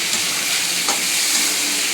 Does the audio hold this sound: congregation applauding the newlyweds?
no